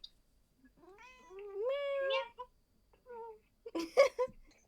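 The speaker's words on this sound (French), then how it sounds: "Comment il fait le chat? Miaou." A house cat gives a drawn-out, rising and falling meow, close and clear in a quiet room, followed by a shorter second meow and a brief rustle.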